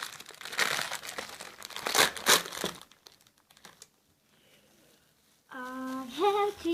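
Crinkly plastic packaging of an LOL doll being cut and pulled open, close crackling and crumpling for about three seconds, then quiet rustles before a brief bright tonal sound at the end.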